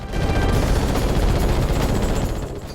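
Rapid ship weapons fire in the Ratchet and Clank video game, a dense, continuous barrage of gunfire-like blasts that stays loud and steady throughout without any talking.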